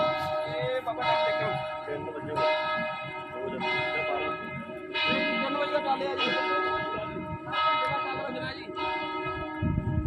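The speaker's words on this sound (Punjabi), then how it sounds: "ਗਿਰਜੇ ਘਰ ਦਾ ਟੱਲ ਖੜ ਗਿਆ" A church bell in Venice tolls about seven times in a slow, regular rhythm, each ringing strike hanging and decaying into the next, loud and resonant over faint street ambience.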